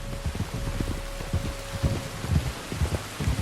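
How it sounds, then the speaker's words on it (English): Steady in-game rainfall in Red Dead Redemption 2, a continuous broadband hiss with scattered low patters and a faint tonal hum, moderately loud throughout with no voices. "You were right about the damn rain."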